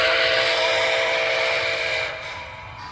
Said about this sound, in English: I think the whistles are the same